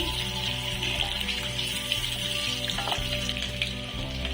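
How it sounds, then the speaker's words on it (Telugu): Eggs frying in a pan until light golden for an egg masala curry, a steady close sizzle with crackling, loud and continuous with no talking. "లైట్ గోల్డెన్ కలర్ వచ్చేంత వరకు ఫ్రై చేసుకొని పక్కకు తీసుకోవాలి."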